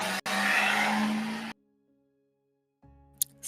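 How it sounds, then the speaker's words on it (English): A car roars loudly inside a parking garage with a squealing, skidding tire sound for about a second and a half, then cuts off abruptly, leaving a faint low hum and a brief muffled thump. "Sorry about the car noise."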